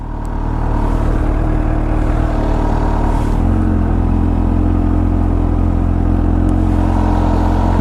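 Kawasaki H2 SX supercharged motorcycle under way, a continuous loud engine drone with road and wind rush, the pitch shifting partway through as it changes speed, close and steady with no talking.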